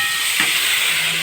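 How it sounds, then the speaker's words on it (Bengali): Jaggery poured into hot oil with dried red chilli tempering for amla pickle, producing a loud, close, continuous hissing sizzle that swells briefly and then holds steady. "এবার আমি গুড়টাকে ঢেলে দিলাম।"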